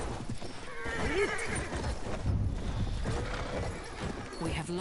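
In the World War I shooter Battlefield 1, a horse whinnies loudly and hooves clip-clop nearby amid battle noise, with someone talking over the action.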